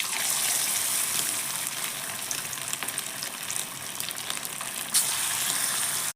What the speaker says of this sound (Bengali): এই যে এখন গরম গরম ভাজবো আর খাবো